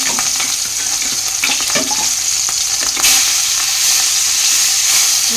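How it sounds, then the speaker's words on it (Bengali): Fish pieces frying in hot oil in a heated wok, a loud, close, continuous sizzle with brief stirring clatters and a sharper crackle midway. "তো এই যে মাছ ভাজা বসিয়ে দিয়েছি।"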